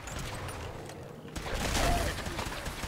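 Gunfire in Fallout 4: a dense burst of shots erupts mid-clip and rings out over a steady background of game ambience, with a faint voice underneath.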